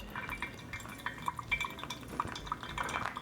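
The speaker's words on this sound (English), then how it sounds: "pour 170 grams of water, and we'll kind of get that rotation slowly. Here, just a nice slow pour." 170 grams of water poured slowly over coffee grounds for pour-over brewing. Quiet, irregular drips and trickles fall into a glass vessel, soft and close.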